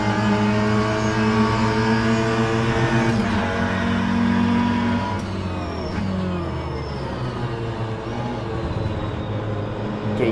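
Mini Cooper S Mk1 engine in rFactor 2, loud and continuous, revving under acceleration with a steady harmonic drone that drops and shifts midway as it changes gear, then keeps pulling strongly.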